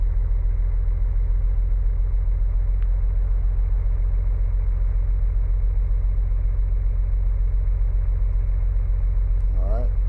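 Steady car engine drone while driving home from the woods in a video game, a continuous loud low rumble that holds evenly throughout, with a brief clatter near the end.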